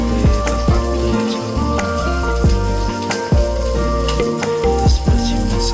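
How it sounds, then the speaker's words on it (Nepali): Chowmein stir-fried with spices, Nepali style, with a loud close sizzle broken by repeated clanging strikes of a ladle against the pan in an uneven rhythm, with music playing along. "मसला हालेर चाउमिन मजाले चिन्डाएर भुटेर"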